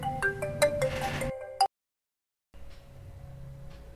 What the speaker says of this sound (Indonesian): diterima dulu telepon, ada yang telepon